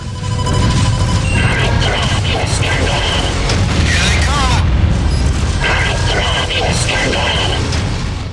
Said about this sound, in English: swarmer missiles that qualify as a full-on Macross missile massacre